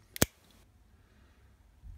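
A single sharp metallic click as the small scissors of a Victorinox Cybertool pocket knife snap open, followed by near silence.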